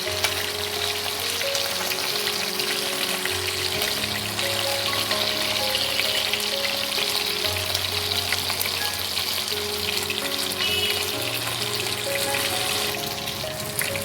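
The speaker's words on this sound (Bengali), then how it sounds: "এবার চিংড়ি মাছগুলোকে একটু উল্টে পাল্টে ভেজে নিতে হবে।" Prawns frying in hot oil for chilli prawn make a dense, constant crackling sizzle that runs loud and steady throughout, with no talk.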